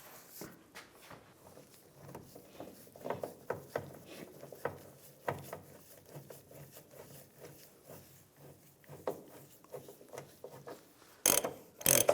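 A ratchet clicking in short bursts while tightening the fuel pump module bolts on a 2007-2013 Chevrolet Silverado 1500, close and fairly quiet, with a sharper louder burst of clicks at the end.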